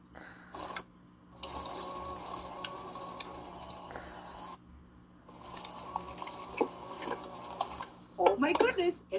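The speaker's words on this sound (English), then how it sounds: "So we want to scrape the sides of the bowl and the bottom of the bowl to make sure that we get everything all combined." A spatula scrapes cookie dough from the sides and bottom of a mixing bowl, a steady soft scraping with clinking utensil knocks near the end, over a quiet kitchen background.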